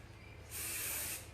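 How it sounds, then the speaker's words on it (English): One short spray burst of hair volume spray aimed at hair roots, a soft hiss lasting under a second against a quiet room background. "you just pick up the hair and spray it at the regrowth"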